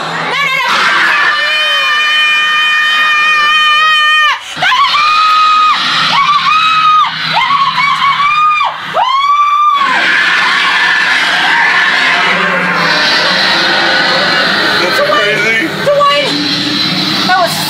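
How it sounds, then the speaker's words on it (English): Loud, continuous screaming and yelling from frightened visitors inside a haunted attraction, with shrill rising cries over crowded, shouting voices throughout. "Screams. Just terror and murder and screams."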